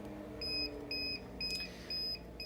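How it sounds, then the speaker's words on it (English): An air mattress control panel sounds its alarm: four short electronic beeps in an even rhythm, fairly faint, over a low hum in a quiet room. "this will illuminate, blink, it'll also beep. You can hear the audible beep as well."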